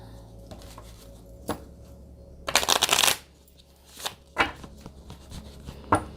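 An oracle card deck is shuffled by hand in several bursts of riffling and sliding cards, one long dense shuffle in the middle and shorter flicks after, close and clear with no talk.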